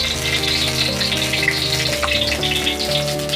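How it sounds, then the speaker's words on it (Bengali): Oil heating in a pan for frying potatoes for a soybean curry, a steady, fairly loud hiss and bubbling that runs continuously with no talk. "এবারে আমি সয়াবিন কারির জন্য আলুগুলো ভাজবো বলে একটু আমি আমার পরিমাণ মতো তেল দিয়ে দিলাম"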